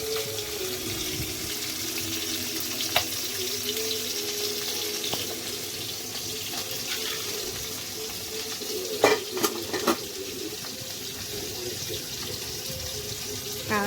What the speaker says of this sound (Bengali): এদিকে দেখো মাছ ভাজা প্রায় হয়ে এসছে